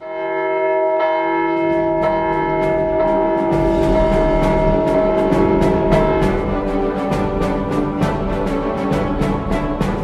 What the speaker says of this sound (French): un soir, on entend le tocsin sonner